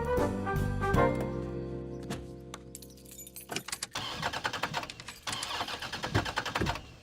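A cartoon car engine turns over repeatedly without catching, a rattling mechanical cranking with jangling keys and clunks, close and moderately loud.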